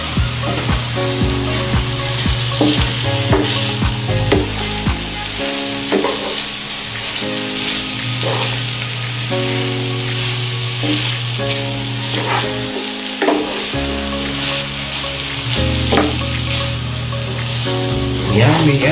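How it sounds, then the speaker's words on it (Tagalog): Ginisang ampalaya, bitter melon with tomatoes and egg, sizzles loudly and steadily in a pan while being stirred, with scraping stir sounds and music playing underneath. "ngayon po ay halo-haloin na po natin ito."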